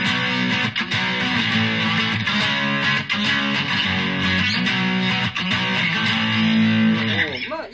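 A Fernandes Mustang electric guitar played through its rear pickup with heavy distortion, dense driven chords strummed continuously and loudly, with no talking.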